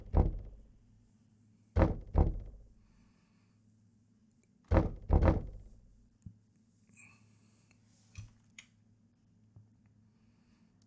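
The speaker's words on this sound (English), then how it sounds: "Whatever it is, it's knocking around outside the door." Sharp wooden thuds on a bedroom door arrive in pairs, two close double knocks a few seconds apart, followed by faint scattered bumps in a quiet room.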